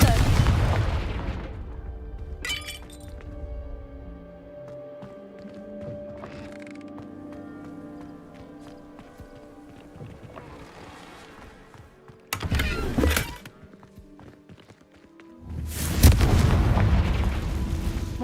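Confringo fire spell blasts in the video game Hogwarts Legacy, several booming explosions including a deep opening burst and two loud bursts near the end, with musical tones and game effects between.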